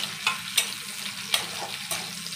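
Cashews and garlic frying in a home kitchen pan, a soft steady sizzle with a few quick stirring scrapes and clinks spread across the moment.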